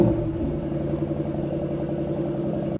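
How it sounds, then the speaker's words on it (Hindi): A car engine cold-starts and settles into a steady, rumbling idle with a faint rhythmic clatter, close and alone. "कोल्ड स्टार्ट ऐसे किया जाता"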